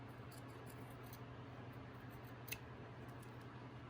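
Scissors snipping and rounding the top of a felt hat piece for a pilgrim gnome, faint small cuts over a low steady hum, one clearer snip standing out, no talking.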